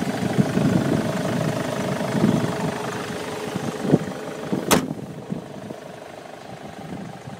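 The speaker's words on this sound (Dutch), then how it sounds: "De motor loopt heel mooi stilletjes" A Ford Mondeo 2.0 TDCi diesel engine idles quietly and steadily, a low even rumble with a sharp click partway through and no voices.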